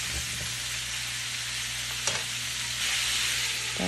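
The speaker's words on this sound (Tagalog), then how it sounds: "Mix-mix ko lang" Squash and green beans with shrimp stirred in a coconut-milk pan, giving a continuous close sizzle with a couple of brief utensil scrapes.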